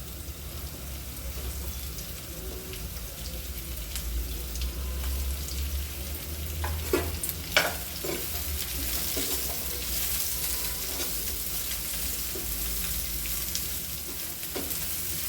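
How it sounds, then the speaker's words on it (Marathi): Three chopped onions fry in oil on the way to a matar paneer. A continuous sizzling hiss is broken by a few sharp clinks and stirring knocks, with no speech. "आता आपण ह्याच्यामध्ये टाकणार आहोत तीन कांदे चिरलेले ते आपण भाजून घेणार आहोत थोडस गुलाबी होतो तोपर्यंत"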